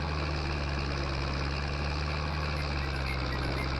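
Small tractor engine idling in the Farming Simulator 22 video game, European countryside setting, a steady close mechanical chug with an even rhythmic throb, alone and unbroken.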